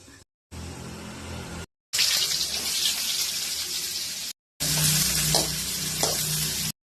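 Cooked mixed leafy greens are tipped into a strainer and the water drains off in several bursts of splashing and pouring. The bursts are moderately loud and cut apart by brief silences.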